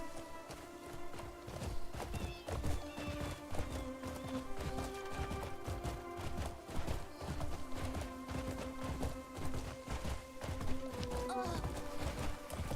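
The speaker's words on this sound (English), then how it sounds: "You're startling the horse" A horse in a video game clops its hooves in a steady walking rhythm, fairly faint.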